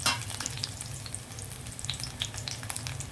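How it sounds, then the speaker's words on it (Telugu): Garlic frying in hot oil in a pan for a ridge gourd coconut fry, a steady close sizzle with occasional crackles and pops throughout, no voices. "ఇది కొంచెం హీట్ అయిన తర్వాత ముందుగా నేను వెల్లుల్లి వేస్తున్నాను."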